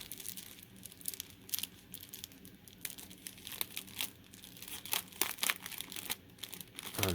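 Thin plastic wrapping crinkles and tears off a game poster in close, faint, irregular bursts of rustling and crumpling, with no talking.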